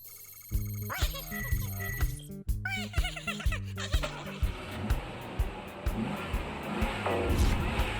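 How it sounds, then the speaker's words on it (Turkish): A car engine starts up in a cartoon, a rough, rumbling sputter rising out of bouncy background music while voices talk over it. "Arabayı çalıştırdılar."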